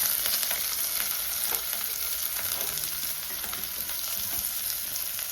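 Chopped green chillies and onion pieces frying in a pan, giving a dense, continuous close sizzle with light stirring taps throughout and no voices.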